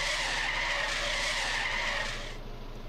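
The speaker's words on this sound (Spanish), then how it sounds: "mira la frenada con freno de mano" Tires screech loudly in a sustained handbrake skid of a car in Trader Life Simulator, holding steady for about two seconds before abruptly dropping off into a quieter engine drone.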